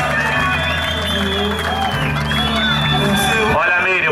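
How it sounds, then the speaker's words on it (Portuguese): A crowd applauds loudly and cheers at a lively gathering, dense clapping mixed with whoops and shouts, with music and voices running underneath and a shifting roar building toward the end. "Uma salva de palmas mais forte,"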